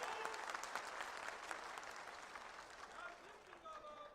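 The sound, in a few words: audience applause at political speech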